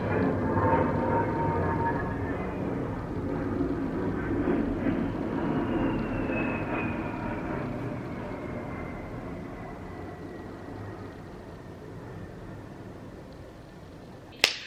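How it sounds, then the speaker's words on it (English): An airplane passes overhead, a broad roar that swells early and then slowly fades over about fifteen seconds, heard alone with no talk, ending in a brief sharp knock. "I gotta wait for the plane to go by"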